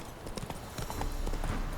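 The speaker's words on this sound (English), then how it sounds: "Because I'm on a horse." Horse hooves clip-clop at a steady riding pace while riding Roach in The Witcher 3, a brisk, fairly faint rhythm of hoofbeats along twisty roads.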